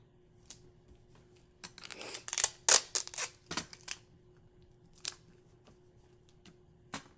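Scissors trimming overhanging paper edges on a butterfly garden craft piece, a run of sharp, close snips and cuts, denser in the middle, then a few isolated snips with quiet pauses between.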